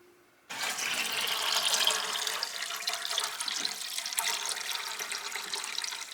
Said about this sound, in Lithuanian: Pilame 5 litrus.